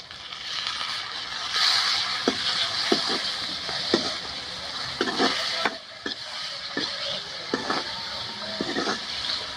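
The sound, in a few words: frying tomatoes with spices in a pan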